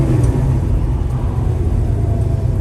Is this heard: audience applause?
no